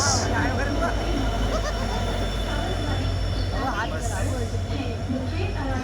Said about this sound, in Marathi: समोर येते ती तुतारी सावंतवाडी तुतारी एक्सप्रेस